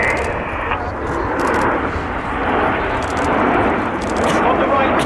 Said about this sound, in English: This is Spitfire.